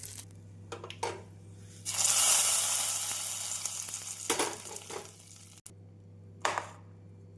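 Hot oil tempering crackles and sizzles in a loud burst as it is poured into mor kuzhambu (buttermilk curry), then fades into softer spatters with a few sharp clinks of a utensil against a pan.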